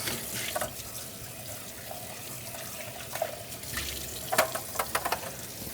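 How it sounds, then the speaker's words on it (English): A sink tap runs water while the reservoir of a Gaggia Babila espresso machine is rinsed out during descaling, giving a steady, moderately quiet rush with a few splashy spikes near the end. "Now empty out any remaining descaling solution that was in the reservoir. And give that a rinse."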